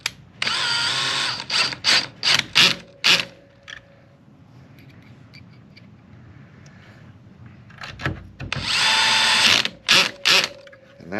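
Power driver set to its softest clutch setting runs a screw into plastic on an ARRMA or Traxxas RC car, loud whirring bursts with ratcheting clicks as the clutch slips, in two clusters separated by a quieter stretch.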